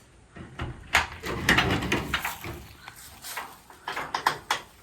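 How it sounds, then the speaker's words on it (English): Two doors of a shed built with reused corrugated metal are opened, giving a run of close scraping, rattling and knocking sounds with no talk. "it opens 2 doors"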